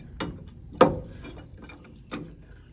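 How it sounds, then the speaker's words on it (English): A large wrench ratchets on an old junker truck being turned into a water truck, giving a few separate clicking, grinding strokes spaced about a second apart, close and moderately loud against a quiet background. "That's the biggest wrench I own."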